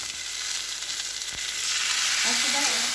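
Spices fry in a pan while being stirred, a steady hiss of sizzling oil up close with a brief scrape partway through and a faint hint of voices toward the end.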